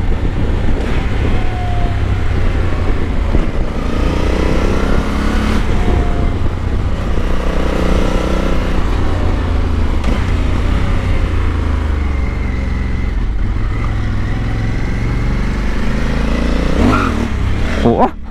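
A Honda Africa Twin 1100 Adventure Sports motorcycle engine runs loud and close, its pitch rising and falling as it revs, with voices talking over it.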